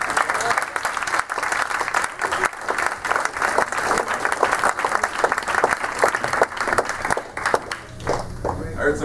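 An audience at a Palestine cultural festival at Princeton claps hard, a dense, continuous wash of applause that runs the whole time, with voices mixed in under it.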